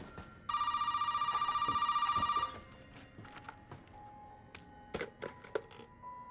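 A telephone rings in the Resident Evil 7 video game: a loud, close electronic bell trill lasting about two seconds, followed by scattered thumps, clicks and faint tones, with no speech.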